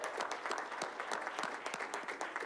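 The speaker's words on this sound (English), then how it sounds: "let's give them a round of applause." Audience applause at a city board of education business meeting, steady dense clapping from a room full of people, moderately loud and continuous without talk.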